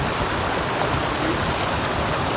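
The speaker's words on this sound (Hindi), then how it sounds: "इधर पानी बह रहा है" Water flows in an outdoor stream in a rural village, a constant, loud, broadband rush with no pauses or voices over it.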